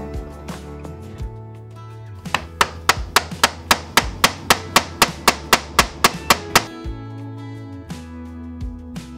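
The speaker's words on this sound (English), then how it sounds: "I used this small hammer as an anvil to punch the rivet down." Small hammer striking a metal rivet into a leather belt, with another small hammer used as an anvil: about a dozen sharp, evenly spaced metallic taps up close, framed by quieter handling knocks before and after.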